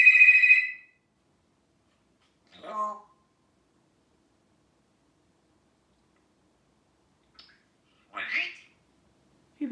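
A parrot imitating a telephone ringing, giving a short, bright electronic-sounding trill followed by scattered squawks and chirps separated by long silences, close to the microphone.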